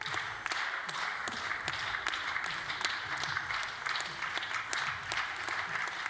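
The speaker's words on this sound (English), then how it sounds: "So again, the crowd clap along." Spectators clapping along in a steady rhythmic beat at a women's 10m air pistol gold medal final, the sharp, evenly spaced claps continuing over a broad crowd applause.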